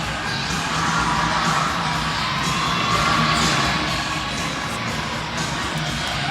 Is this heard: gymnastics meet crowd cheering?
yes